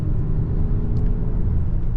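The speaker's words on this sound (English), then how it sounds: "Slowly giving it some throttle" A Lincoln Nautilus Black Label luxury SUV's 4-cylinder engine under gentle throttle gives a deep, quiet, steady hum with low road rumble, muted and smooth throughout.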